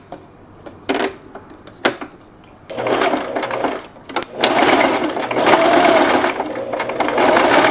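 A sewing machine stitches a blouse, starting with two short isolated bursts and then running in longer rapid mechanical runs that grow steadier and louder toward the end, with no talking.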